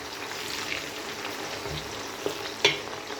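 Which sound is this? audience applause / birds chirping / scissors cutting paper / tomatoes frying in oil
tomatoes frying in oil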